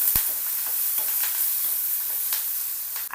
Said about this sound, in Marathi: कापलेला कांदा परतून घ्यायचं।